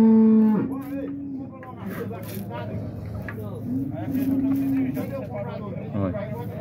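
A dairy cow moos loudly at a cattle fair in Dois Riachos, Alagoas, with one long low call at the start and another mid-clip, over a busy backdrop of crowd chatter and nearby talking.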